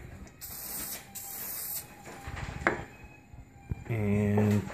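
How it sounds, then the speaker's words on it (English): Cooking oil spritzed from a spray bottle onto bread dough for a Christmas bread wreath, heard as two close, crisp hissing bursts followed by light clatter and a short tonal hum. "We'll just spray it down with a little oil."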